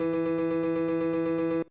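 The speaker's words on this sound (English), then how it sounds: "a MIDI performance here that's just playing a single note at a single velocity on a grand piano" A grand piano strikes one note over and over at an even pace and identical velocity, each strike ringing with steady harmonics. The repeats are loud, close and continuous, then stop abruptly near the end.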